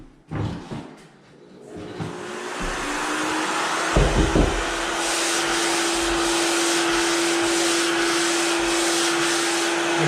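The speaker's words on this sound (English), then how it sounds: "Now I'm going to turn the vacuum on." A few thumps and clunks, then a vacuum attached to a pole sander switches on and runs with a loud, steady whine and roar that continues to the end.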